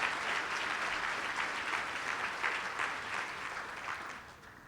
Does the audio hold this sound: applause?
yes